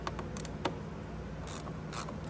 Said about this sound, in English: I'm gonna grab my stubby socket over here